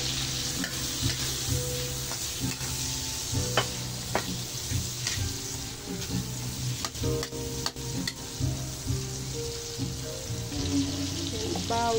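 Onions frying in margarine for kaldereta hiss with a loud, continuous sizzle as a spoon scrapes and knocks against the pan in irregular strokes, with no talking over it.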